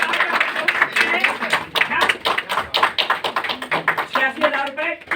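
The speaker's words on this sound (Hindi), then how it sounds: "जबरदस्त ताली।" A group claps and applauds steadily, with voices talking over the clapping throughout.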